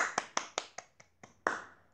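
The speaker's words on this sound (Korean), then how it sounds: "축하의 박수." A single person claps about seven or eight times in a sharp, close, slightly uneven rhythm as a small congratulatory round. The claps are crisp and quick, and no one talks over them.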